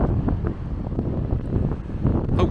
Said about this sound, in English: because it's very windy.